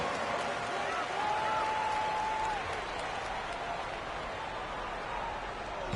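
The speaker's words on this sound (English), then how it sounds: "Give him a round of applause for your kid Clippers." Crowd applause in an NBA 2K23 basketball game arena, a steady wash of clapping and cheering throughout, with a faint tone briefly rising above it.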